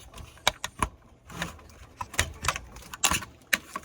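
A faulty GE refrigerator light switch, removed and shaken by hand, rattles in quick irregular bursts of small clicks and jangles separated by short quiet gaps.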